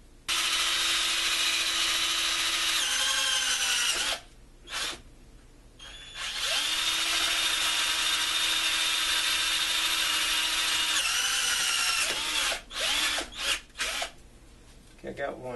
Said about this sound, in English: I need to drill some holes